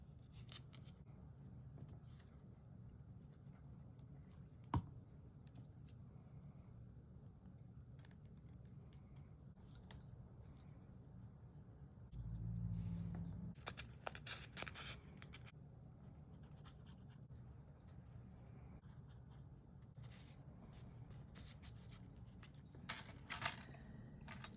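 Paper beads being rolled by hand: quiet rubbing, scratching and crinkling of paper close by, with a few soft taps and a low hum underneath.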